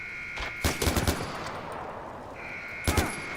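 Several short bursts of rapid automatic rifle fire from the video game Far Cry 4, loud and close, with a steady electronic tone running underneath.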